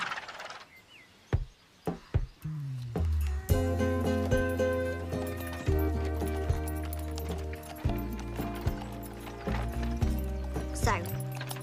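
A grey horse's hooves clop on a road: a few sparse strikes at first, then a steady rhythmic clip-clop close by, with a low rumbling bed and sounds mixed in beneath.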